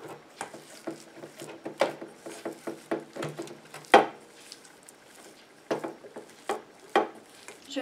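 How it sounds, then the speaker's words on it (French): Homemade shampoo of coconut flower vinegar being stirred and mixed, giving a run of light clicking, tapping and scraping knocks at an irregular pace, close and fairly quiet, with no talking. "Je mélange."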